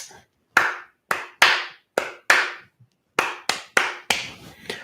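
Hands clap a syncopated strumming rhythm, around ten crisp close claps in quick groupings with brief pauses, loud and alone with no talking.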